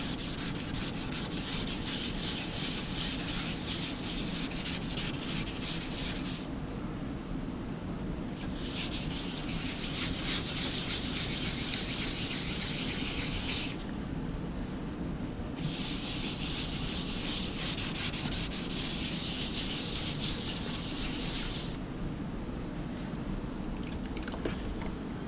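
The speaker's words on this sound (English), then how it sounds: "it's sanding pretty good" Continuous abrasive sanding of car paint on an Audi, steady and close, with strokes shifting in intensity over a low mechanical hum; no talking.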